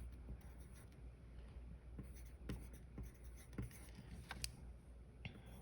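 Pen or pencil writing on paper while working out sales tax arithmetic, a soft quiet scratching with small irregular strokes and taps, no voices.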